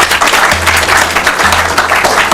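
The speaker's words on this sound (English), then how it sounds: "Let's clap for them." An audience applauding a school team's score at a quiz contest between two schools, loud steady clapping close by throughout, with a low hum underneath.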